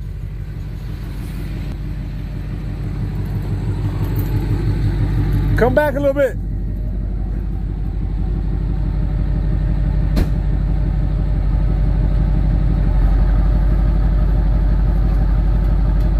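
A 12-valve Cummins diesel truck engine rumbles close by with a deep, steady idle that grows slightly louder over time, while someone speaks briefly partway through.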